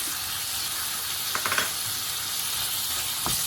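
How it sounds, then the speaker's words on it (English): Tomatoes sautéing in a pan for mutton kofta curry give a steady close sizzle and hiss, with a few brief louder crackles and stirring scrapes, no voices. "Saute until the tomatoes are mushy."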